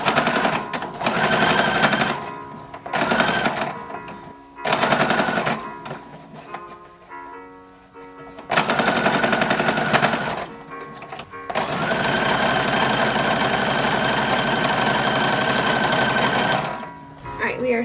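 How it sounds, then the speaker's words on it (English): A sewing machine stitches a ruffle and binding onto the neckline of an 1880s-style infant's dress, running in loud bursts of rapid needle chatter broken by short pauses and then one long continuous run. People talk briefly between the bursts. "we are sewing on the ruffle at the neckline and also the binding"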